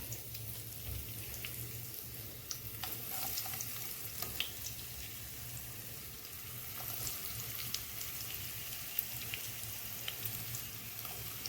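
Bitter gourd sizzles and crackles in hot coconut oil, a steady close frying hiss with occasional sharper pops and a low hum underneath throughout.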